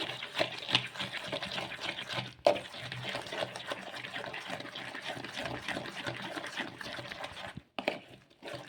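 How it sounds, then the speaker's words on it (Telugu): Water is poured into peanut idli batter: a quiet, close splashing and sloshing that runs unevenly, with a brief pause near the end. "ఇంకా కొంచెము నీళ్ళు అయితే వేసుకుందాము"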